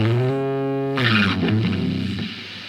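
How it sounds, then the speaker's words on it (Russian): Electric guitar played through a distortion effect in GarageBand on an iPhone or MacBook, a sustained gritty chord ringing and then a burst of harsher, brighter distorted strumming that decays over nearly three seconds, loud and without talking. "Опять добавляем гитару. Делаем дисторшн."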